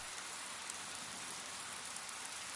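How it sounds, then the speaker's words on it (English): Steady rain in the video game Paper Lily fills the whole moment with a dense, constant hiss of falling drops, close and even, with no voices. "Now it's raining."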